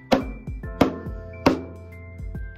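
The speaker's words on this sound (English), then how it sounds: "So the bass sounds like this" Bass strokes played by hand on a frame drum: several soft, deep thumps with short ringing decay in an uneven pattern, close and fairly quiet, with no talking.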